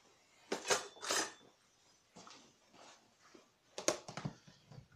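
Potato salad stirred in a bowl: a few soft scraping, clattering strokes of a spoon against the bowl, close and fairly quiet, in irregular bursts.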